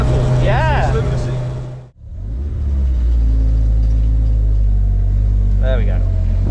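A 260hp VTEC-swapped Alfa Romeo driven on road, its engine droning loudly from inside the car with a brief gearshift dip before the revs climb again, voices talking over it.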